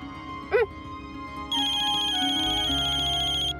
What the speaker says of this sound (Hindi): ये लीजिए, चौथा फोन आ गया इसका